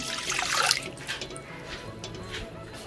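A brief gush of water, one tumbler's worth, poured into a pan on a lit stove, loudest at first and then tapering into light trickles and drips.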